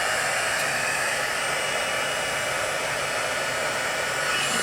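A heat gun blowing hot air, a steady loud broadband whoosh that holds evenly throughout with no talking.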